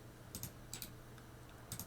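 Keys clatter on a computer keyboard while a command is entered in a Linux terminal, three short quiet bursts of quick clicks spaced apart against a low hum.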